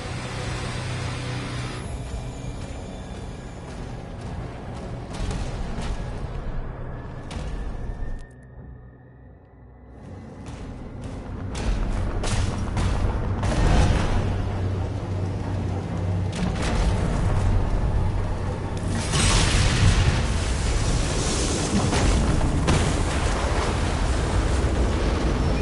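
Heavy explosions and roaring destruction as the hell cannon's fire core is blown apart in DOOM: The Dark Ages, loud and sustained, with a brief near-silent gap before the blasts swell again and rumble on.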